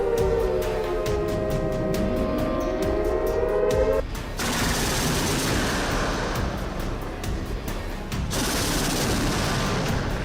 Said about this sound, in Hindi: जो आर्टिलरी फायरिंग हो रही है